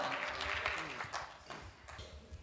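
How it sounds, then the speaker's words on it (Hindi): A crowd at a Hindi comic poetry recital applauds poet Vinod Pal with steady, dense clapping. The clapping swells and then thins out slightly over a couple of seconds, heard at a moderate distance. "एक बार दोनों हाथ उठाएं, तालियों में तब्दील करें, जोरदार तालियां विनोद पाल।"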